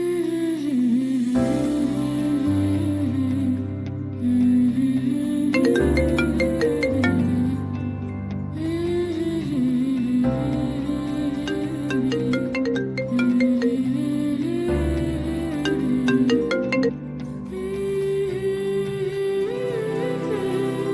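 A melodic phone ringtone plays over and over for about twenty seconds, loud and steady with no one answering.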